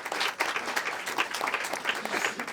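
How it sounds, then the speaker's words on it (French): An audience in a newsroom claps steadily, a brief burst of applause at even loudness from start to finish. "on peut l'applaudir encore une fois"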